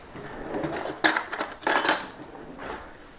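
A spoon clinks and scrapes against a container while icing sugar is dug out, producing a few sharp metallic taps and short scraping bursts, close and fairly loud.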